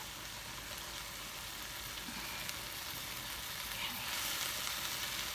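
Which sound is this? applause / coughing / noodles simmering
noodles simmering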